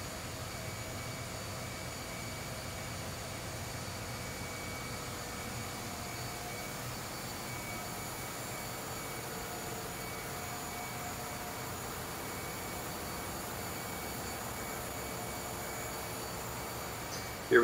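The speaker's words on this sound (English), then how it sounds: "Here we've got a nice view of all three generators." Three generator engines in a ro-ro ship's engine room, two of them seven-cylinder units, running as a steady, unbroken mechanical roar that fills the space at an even level throughout.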